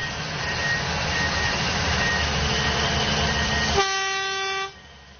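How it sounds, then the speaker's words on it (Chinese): At an open-pit coal mine, a truck's single horn blast sounds near the end over a steady engine rumble, then the noise cuts off abruptly into near silence. "司机听到信号后，他也鸣笛一声，"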